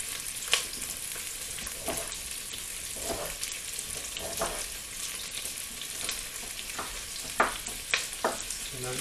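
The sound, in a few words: onion and ginger frying in a pan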